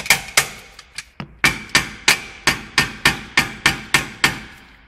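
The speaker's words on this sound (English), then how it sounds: "Really, you should get a hammer, just tap that." A hammer strikes the track rod end on an Audi A4 with about a dozen sharp metallic taps, spaced evenly and ringing briefly, loud and close with no talking.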